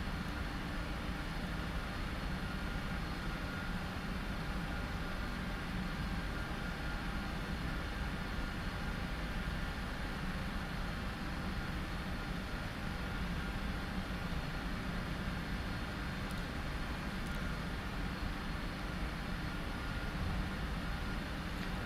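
A Jetstar A320 takes off in the Prepar3D flight simulator, giving a steady, unbroken roar of jet engine noise that holds at an even level throughout with no voices.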